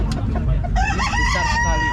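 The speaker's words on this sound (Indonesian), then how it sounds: "Ayam KUB. Nih ayam KUB. Ayamnya besar-besar nih guys." KUB chickens crowing and clucking up close, with a loud rising crow breaking out after a few short clucks, all within a couple of seconds.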